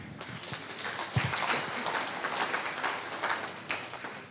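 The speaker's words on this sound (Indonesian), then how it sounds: "Tepuk tangan lagi" Audience applause during a debate between Rocky Gerung and Indonesian judges, a sustained, moderately loud patter of many hands that swells slightly midway and continues evenly to the end.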